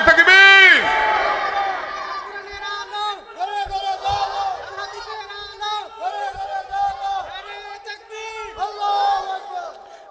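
A large crowd at an outdoor Islamic religious gathering in Cumilla shouts Allahu Akbar in answer to a takbir call, a loud collective roar that swells at the start and then rolls on as rhythmic group chanting.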